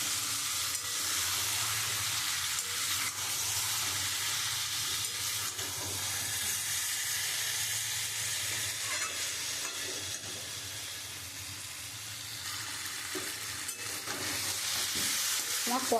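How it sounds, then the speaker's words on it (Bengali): Chicken meat being stirred and sautéed in hot oil in a pan, a steady close-up sizzle and hiss with scraping stir sounds running throughout, no talking. "আমি এখন মাংসটা খুব সুন্দর করে কষিয়ে নিয়েছি।"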